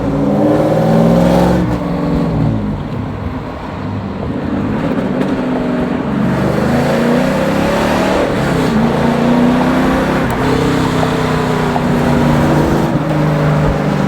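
A Volvo fitted with an LS6 V8 rumbles loudly at close range, its deep burbling idle rising into a few throaty revs and settling back, with no talk.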